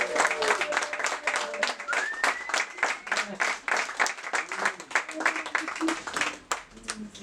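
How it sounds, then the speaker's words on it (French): Guests at a baptism clap together in a loose, steady rhythm of distinct claps, a few per second, while voices talk and call out over the clapping. "que votre engagement soit scellé par un grand applaudissement collectif"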